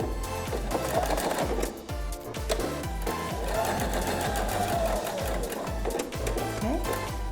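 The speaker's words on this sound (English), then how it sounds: "we're gonna take this and sew it 1/4 inch of a seam allowance on both sides" Sewing machine stitching a quarter-inch seam along a single welt pocket, running steadily and close with a rapid, even mechanical rhythm throughout.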